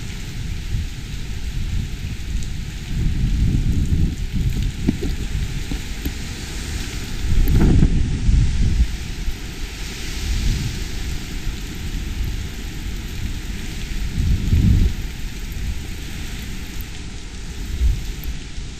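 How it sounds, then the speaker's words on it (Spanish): Heavy rain and gusting wind from Hurricane Irma lash a home's backyard patio in Miami, a steady loud roar with stronger surges of wind sweeping through at intervals and no voices. "las bandas espirales nos estarán afectando con fuerte viento y mucha lluvia durante todo el día"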